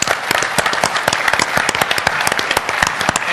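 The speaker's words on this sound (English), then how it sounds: "We want to give them a round of applause for all their support." An audience at a Hard Rock presentation breaks into brisk applause, dense overlapping claps filling the room loudly and evenly for a few seconds, with no talk over it.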